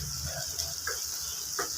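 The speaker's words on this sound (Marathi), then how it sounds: "हे सर्व आपल्याला छान परतून घ्यायचंय." Masala being sautéed in a pan for a button mushroom curry gives a soft, steady sizzle with a few faint scrapes of stirring, close and quiet, with no talking.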